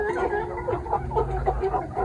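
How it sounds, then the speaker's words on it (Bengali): Tiger breed chickens cluck steadily at close range while eating freshly cut grass, a busy run of soft overlapping clucks and murmurs. "এগুলো টাইগার মুরগি।"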